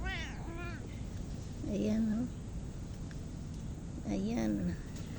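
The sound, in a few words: cat meowing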